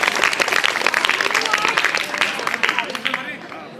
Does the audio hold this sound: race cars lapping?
no